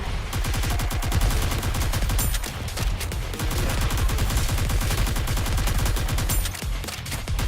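Rapid automatic gunfire in Nikke: Goddess of Victory, a loud, evenly spaced stream of shots hammering continuously from start to finish, with no talking.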